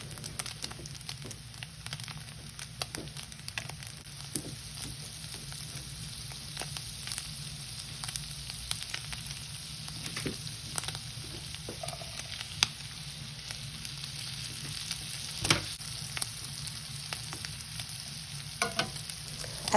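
Green onions and mushrooms sauté in olive oil and grass-fed butter, a soft continuous sizzle in the pan with scattered pops and crackles, close by and steady throughout with no talking.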